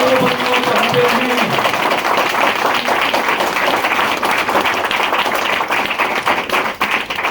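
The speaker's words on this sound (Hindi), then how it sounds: "एक बार जोरदार तालियां हमारे VMCM इंडिया रूप के लिए जो VMCM बनना चाहते हैं" An audience in a branch office hall gives loud, sustained applause, a dense wash of many hands clapping close by for several seconds without pause.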